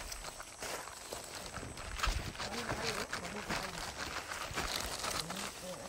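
A horse's hooves clip-clop on a muddy road in an uneven walking rhythm, heard close, with voices talking over them.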